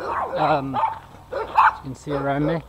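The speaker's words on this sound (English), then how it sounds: "Please excuse the barking dogs." Several dogs bark repeatedly in a rural village at evening, sharp clustered barks close by and fairly loud, mixed in with someone talking over them.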